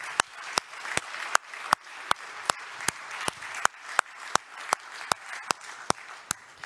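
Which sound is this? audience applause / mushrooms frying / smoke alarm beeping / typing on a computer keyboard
audience applause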